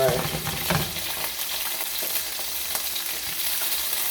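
Seasoned scallops and shrimp fry in a pan over medium-high heat, giving a loud, steady sizzle with light scraping and clinking as they are moved about, and no talking.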